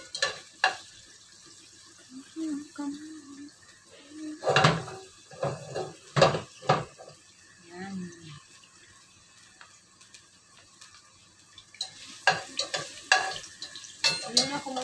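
Ginger frying in plenty of oil for laksa noodles, a steady crackling sizzle broken by scraping stirs and clanks of a utensil against the pan, close by, with a few brief voice sounds.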